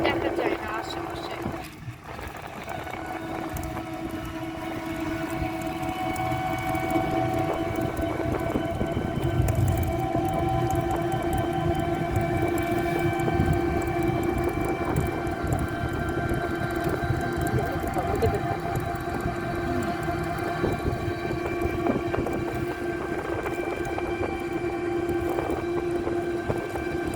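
A Dhaka Metro Rail train at a station in fog makes a steady, sustained hum with tonal whine and rumble throughout, moderately loud and continuous, with faint wind noise.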